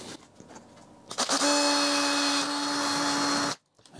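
A power drill whirs loudly and steadily for about two seconds, its high whine constant as it bites into a plastic bottle lid, then cuts off abruptly.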